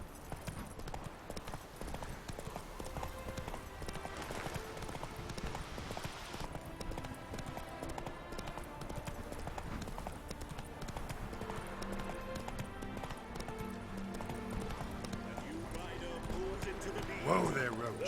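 Steady horse hooves clip-clop at a trot in The Witcher 3 game, running throughout beneath game music with a voice speaking over it.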